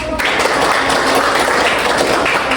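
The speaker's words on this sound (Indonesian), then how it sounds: "Oke, tepuk tangan" Classroom group applauding during a teaching session, a brief burst of many hands clapping steadily, moderately loud and unbroken.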